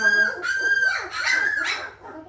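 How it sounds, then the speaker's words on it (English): Newborn puppies, about two weeks old, squeal and yelp in high-pitched overlapping cries, close and loud, with rising and falling whines continuing throughout. "Not terribly interested in the fact that puppies are making lots of noise."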